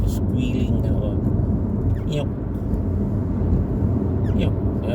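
Windshield wipers on auto mode squeal on a car driving along a Malaysian highway, with short high squeaks repeating every couple of seconds over steady road rumble and low voices.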